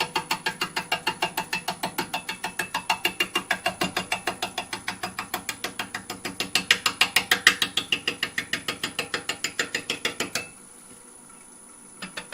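A machine turning at about 400 RPM while cutting out-of-round stock gives a steady, rapid ratcheting clatter of evenly spaced clicks, loud and close, for about ten seconds before it suddenly stops.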